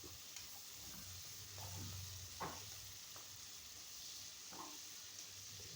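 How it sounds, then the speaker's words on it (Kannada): Onion, peas and spices fry in oil in a pan for a fenugreek rice dish, a soft steady sizzle with a few light stirring scrapes and clinks, close and quiet with no talking. "ಈರುಳ್ಳಿ, ಬಟಾಣಿ, ಮಸಾಲ ಪದಾರ್ಥಗಳೆಲ್ಲ ಚೆನ್ನಾಗಿ ಫ್ರೈ ಆಗಬೇಕು"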